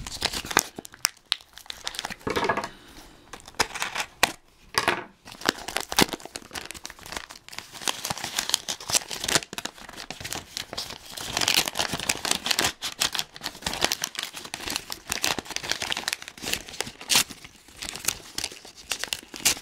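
Tape and paper being torn and crinkled while a taped mail envelope is opened, close up, in irregular bursts of ripping and rustling throughout, with no talking.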